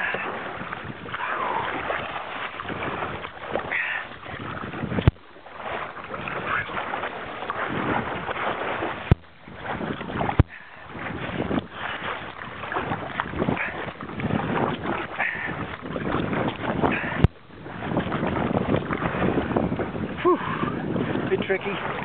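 Kayak riding big ocean swells near Penguin Island, a constant rush of water and wind noise with paddle splashes, and someone talking over it.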